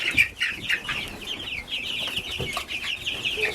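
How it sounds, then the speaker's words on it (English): Laying hens cluck continuously nearby, a busy overlapping chorus of short throaty calls with faint shuffling underneath. "So we have our laying hens in this first set of doors"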